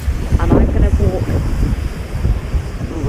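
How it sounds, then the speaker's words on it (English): Gusty wind buffets the microphone outdoors with a low rumbling roar, while faint surf and crunching pebbles sit underneath. "It's windy and I'm standing on a pebbled area of the beach"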